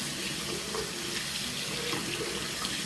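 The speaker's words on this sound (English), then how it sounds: "So I'm waiting for the water to warm up." Warm water runs from a tap into a sink in a constant, loud, broadband rush with no pauses and no voices.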